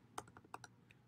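A handful of quick keystrokes sound on a computer keyboard, faint and close, a short burst of typing into a search field with no talking.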